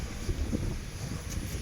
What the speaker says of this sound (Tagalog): Medyo mahangin ang ating kalabay, hangin naman